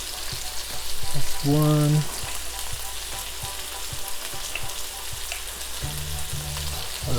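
Two tablespoons of shrimp paste sizzle and fry loudly in a pan, a steady crackling hiss throughout, with a brief spoken remark near the start.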